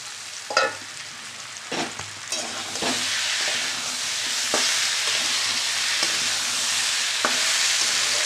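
Mixed vegetables sautéing in oil in a pan for a Bengali pumpkin and potato curry, a loud continuous sizzle broken by several sharp spatula scrapes and stirs, steady and close.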